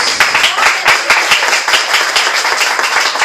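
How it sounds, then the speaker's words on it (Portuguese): Churchgoers in a Portuguese-speaking congregation clap briskly together in a fast, fairly regular rhythm, a loud, close, dense patter with no voices over it. "Aplauda o Senhor Jesus"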